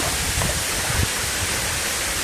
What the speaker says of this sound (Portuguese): Muito boa a cachoeira.